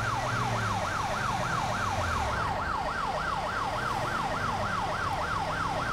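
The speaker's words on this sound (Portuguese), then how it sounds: "Deixa eu desligar a sirene." A police armored vehicle siren in GTA V wails in a steady, fast up-and-down sweep, loud and continuous throughout, over a low rumbling engine drone.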